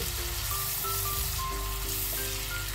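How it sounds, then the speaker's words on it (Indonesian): Garlic and onions sizzle steadily in hot oil as they are stir-fried, a continuous close crackling hiss with faint tonal hums beneath it. "Tumis ya bawang putih sama bawang lainnya sampai dengan harum."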